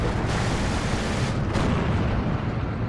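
Bomber explosions in the WWII-era Steel Division 2 video game form a dense, loud, rumbling roar of overlapping blasts, continuous noise with a couple of sharper bursts.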